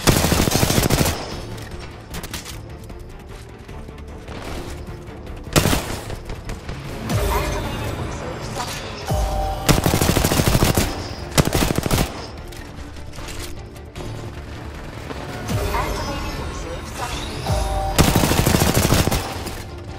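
Bursts of automatic gunfire come from the video game Apex Legends, loud rapid volleys with booming impacts and short gaps between them. Voices are heard now and then under the shooting.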